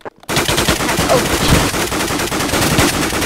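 Rapid automatic M4A4 rifle fire in the Minecraft Minestrike shooter game, loud and sustained with dense overlapping shots after a brief quiet start, no talking.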